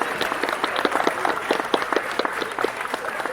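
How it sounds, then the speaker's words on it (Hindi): An audience at a student competition event in Pune claps loudly, with dense, sustained applause of many hands filling the whole stretch and a few voices mixed in. "जोरदार ताली।"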